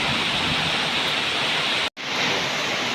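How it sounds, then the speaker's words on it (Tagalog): Heavy tropical rain drums down around a farm hut, a dense, loud, continuous roar that cuts out for an instant near the end before resuming; no thunder stands out. "Napakalakas po ng ulan."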